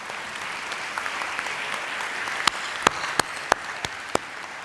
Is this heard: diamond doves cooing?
no